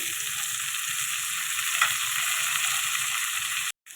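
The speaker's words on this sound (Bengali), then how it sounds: "পেঁয়াজগুলো একটু লাল করে ভেজে নেবো" Onions fry in a pan with tomato added, a steady, close crackling sizzle that holds evenly before cutting off abruptly near the end.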